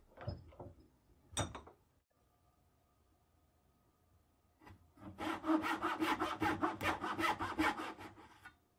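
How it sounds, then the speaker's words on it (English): Hand saw cutting excess wood off an original Kar 98 rifle stock: a few scattered scrapes and knocks, a pause, then a quick run of rhythmic back-and-forth rasping strokes, close and clear. "I'll flip the stock over to cut off the excess wood."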